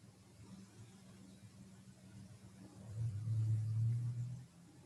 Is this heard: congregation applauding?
no